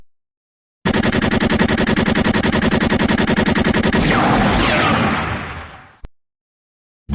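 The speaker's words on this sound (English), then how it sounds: "Faiz blaster, take off. Faiz blaster, discharge" The Kamen Rider Faiz Blaster discharge effect fires a loud, rapid machine-gun-like burst of shots for about four seconds, then swells into a roaring energy blast that fades out, followed by a short click, with no voices.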